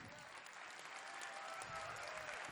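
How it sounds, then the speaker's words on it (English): A rally audience applauds in a steady, even wash of clapping that sounds distant and faint and lasts a few seconds, with a voice speaking underneath it. "Let's give him an applause."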